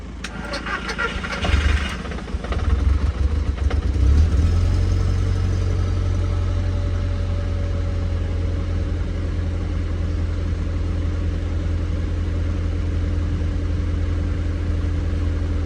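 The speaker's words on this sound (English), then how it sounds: "Well, it's starting." A Mk1 Audi TT engine cranks briefly, catches and starts, then settles into a steady, loud idle that continues to the end.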